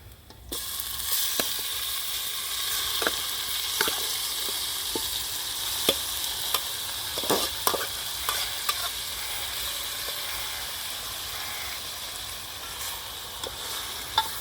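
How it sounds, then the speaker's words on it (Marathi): Steady, bright sizzling of ginger-garlic paste frying in hot oil as a tempering over a wood-fired stove, with occasional clicks and scrapes of stirring throughout; no voices. "आता हे आपण ह्याच्यात टाकूया फोडणी"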